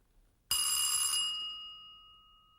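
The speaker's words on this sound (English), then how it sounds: "I touch them together, there's electrical conduction, and the bell rings" An electric bell rings as two wires touch and conduct, a sudden loud metallic clang that sustains with bright ringing overtones and slowly fades over about two seconds.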